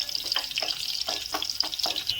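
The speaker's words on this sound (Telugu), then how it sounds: "ఫస్ట్ 2 పచ్చిమిర్చిలు అయితే వేసుకుంటున్నాను." Two green chillies hit hot oil in a pan for a Telangana-style fish curry, giving a bright, steady crackling sizzle with quick spitting pops repeating throughout, close and fairly loud with no talk.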